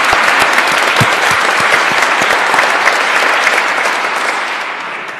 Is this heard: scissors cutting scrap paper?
no